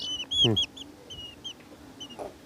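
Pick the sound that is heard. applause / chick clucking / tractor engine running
chick clucking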